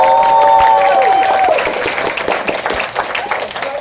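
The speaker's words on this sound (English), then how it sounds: "clap your hands if you want Evin to live" An improv show audience breaks into sustained applause, dense clapping from a full room at close range with a little cheering mixed in, fading slightly toward the end.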